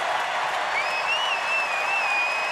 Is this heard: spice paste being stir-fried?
no